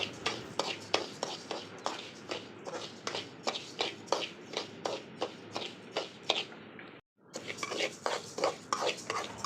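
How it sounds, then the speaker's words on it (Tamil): Rice dry-roasting in a pan until golden, a steady rhythm of scraping and stirring strokes as the grains are pushed around, close and fairly quiet, with a short pause partway through. "அரிசியை நல்லா பொன்னிறமாக வர வரைக்கும் வறுத்துக்கிட்டே இருக்கணும்."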